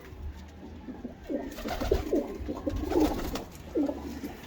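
Pigeons cooing nearby, a series of soft throaty coos in quick succession over a low background hum.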